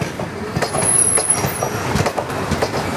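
An Indian express train, the 17630 Hazur Sahib Nanded–Hadapsar Express, running steadily with a continuous rumble of wheels and carriages heard from on board, faint rhythmic clatter and a thin high squeal over it.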